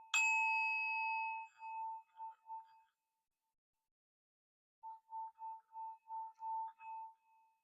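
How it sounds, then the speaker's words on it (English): A small prayer bell is struck once with a bright, sustained metallic ring that fades over a couple of seconds, then after a pause rings again in a quick series of soft repeated dings, alone with no talk. "let me just go ahead and ring the bell and we're going to say a prayer"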